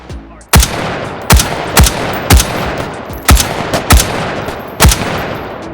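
Virtual gun firing on a shooting range in the VR game H3VR, eight sharp, loud single shots spaced irregularly about half a second to a second apart, each with a short ringing tail.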